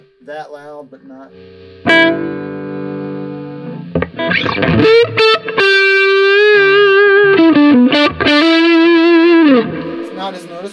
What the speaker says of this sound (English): get this amp up into ear bleeding territory before I can tell the difference